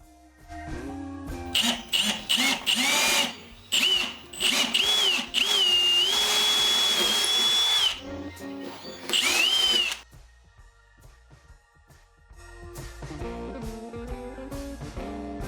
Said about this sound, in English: Let's go drill the first hole in here to mount this in